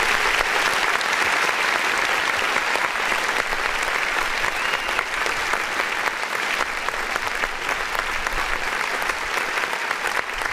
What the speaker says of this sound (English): first let's clap for that